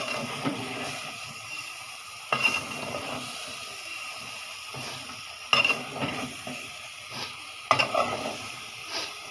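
Thinly sliced potatoes and sponge gourd frying in a pan, a soft continuous sizzle with a few sharp metallic stirring scrapes, fairly quiet and close, with no voices.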